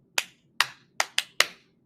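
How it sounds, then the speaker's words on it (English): Five crisp single hand claps used to get a room's attention, close and loud in a quiet space, in an uneven rhythm of two spaced claps followed by a quicker cluster of three. "Could be something like a clap."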